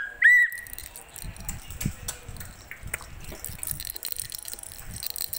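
Two toy whistles blow at once in one short, shrill blast. It is followed by scattered clicks, rattles and light clatter from nearby play.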